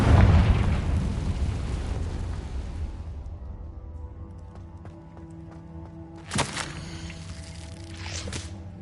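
A Confringo fire spell bursts in Hogwarts Legacy with a heavy, booming explosion that fades gradually into a quieter tail. A couple of sharp, bright hits follow later.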